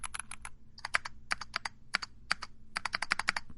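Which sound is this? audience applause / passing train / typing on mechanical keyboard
typing on mechanical keyboard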